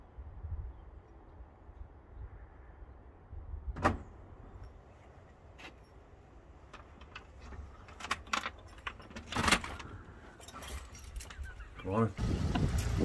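Keys jangle in sharp, scattered bursts near a van while waiting to drop it off, mixed with clunks and faint vehicle noise, and someone talks intermittently over them.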